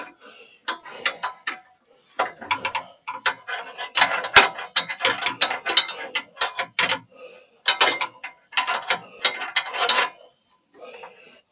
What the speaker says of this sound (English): So I'm gonna see if I can turn that with a ratchet and tighten it.